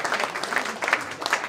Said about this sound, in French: que je pense qu'on peut applaudir très très fort